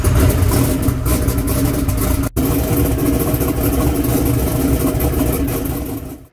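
A No Prep Kings drag car engine runs steadily after being fired up, a loud, dense, rumbling idle with rough clattering texture that continues almost unbroken, with one abrupt momentary dropout partway through.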